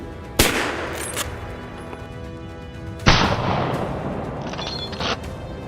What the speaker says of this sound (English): Cold gunfire rang out.